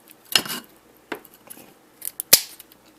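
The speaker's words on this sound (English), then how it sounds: "Let's get those wires cut so I can pull the cord out so I can get the motor off the base." Scissors snip through the wires of an electric fan's power cord, giving several short, sharp cuts close by, spread unevenly across a quiet moment with no speech.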